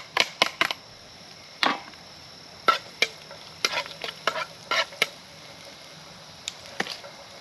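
Garlic and onion sautéed in a pan for pancit: a soft background sizzle broken by sharp, irregular spatula scrapes and clacks against the pan, close and fairly quiet.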